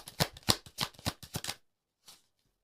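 Tarot cards shuffled in a quick series of crisp riffling flicks lasting over a second, then a pause and a single soft card snap as one is drawn.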